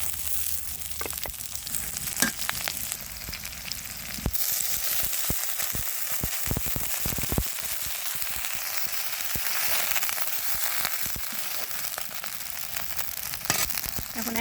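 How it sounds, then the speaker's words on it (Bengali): Onions and spices frying in a pan for chana dal, giving a steady close sizzle with occasional stirring clicks throughout. "পেঁয়াজগুলো তো লাল করে ভাজা হয়ে গেছে, এখন কিছু মশলা দিয়ে দিব এখানে"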